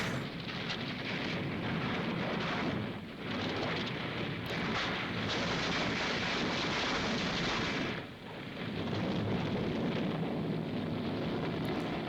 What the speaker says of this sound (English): That's a pretty decent car explosion for 1962.